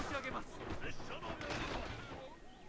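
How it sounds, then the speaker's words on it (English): A volley of matchlock guns fired by samurai troops in a battle game, several overlapping cracks and booms scattered across the stretch, with a commentator's voice running underneath. "they are going to fire off a volley"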